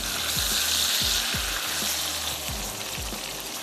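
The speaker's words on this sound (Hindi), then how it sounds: "यहाँ पर जो फ़िश है इसको मैं टर्न कर देती हूँ।" Fish for a Sindhi fish pulao fries loudly in a pan as it is turned, a dense continuous sizzle with repeated low knocks and thumps from the utensil against the pan.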